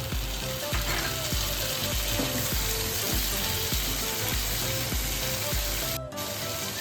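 Large-cut onions frying in a pan to a light brown for a paneer gravy give a loud, continuous sizzle with a steady rhythmic clicking running through it and a brief dip near the end.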